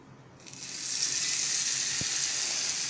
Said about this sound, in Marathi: छान अशी मोहरी आणि कढीपत्त्याची फोडणी इथे तयार आहे आणि चटणीवर घालणार आहोत